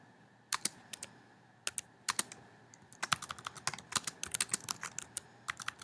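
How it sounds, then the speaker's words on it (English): Someone types on a computer keyboard in irregular bursts of sharp key clicks that quicken into a dense flurry midway, close and clear, with no voice over it. "am struggling with typing here."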